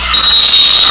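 A referee's whistle at a girls' high school basketball game gives one loud, long, sustained blast that starts just after a brief quiet moment.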